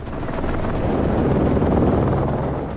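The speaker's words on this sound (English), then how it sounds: "Helicopters were dispatched to the scene." A helicopter hovers over a crash scene at a cliffside called Devil's Slide, a loud continuous rotor roar with wind buffeting and no talk.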